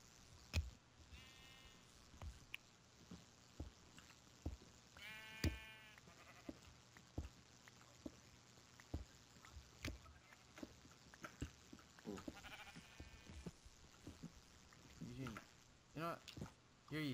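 Sheep bleating in the blocky sandbox game Minecraft, several short quavering bleats at scattered moments under ongoing conversation and game clicks, moderately loud.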